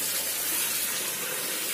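Tap water runs steadily into a sink while spinach and mustard greens are washed, a continuous close gushing hiss with no talking.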